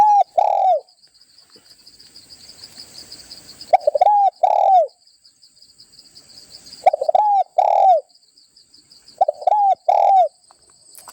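Doves coo in short paired calls, close and clear, repeating every couple of seconds with quiet gaps, while a high, faint chirping runs through the background.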